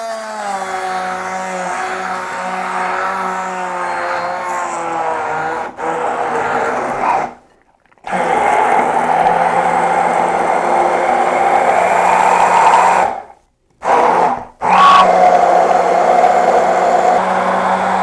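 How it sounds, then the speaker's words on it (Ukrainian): A blender mixing a health cocktail whirs loudly in long steady runs, its motor pitch wavering, with two brief pauses where it cuts off and restarts. "Починаємо працювати блендером."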